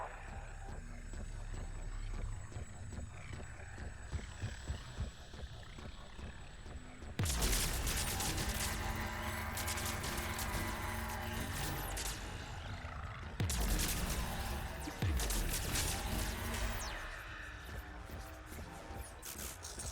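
Bursts of loud gunfire in Mass Effect 3, dense rapid volleys in two heavy stretches over a humming, electronic game backdrop, close and dominant.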